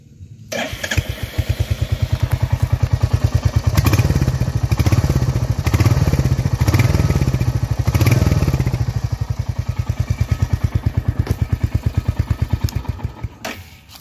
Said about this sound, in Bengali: তো এক্সস্ট নোট আমি তোমাদের শুনিয়ে দিই বাইকটার।